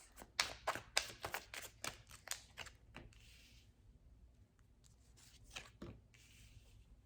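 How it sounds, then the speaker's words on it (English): A deck of tarot cards is shuffled by hand in a quick run of crisp, close riffles and snaps, then softer, sparser handling of the cards in a quiet room. "I will continue shuffling and get a proper shuffle for you guys"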